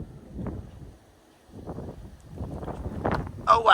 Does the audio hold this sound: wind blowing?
yes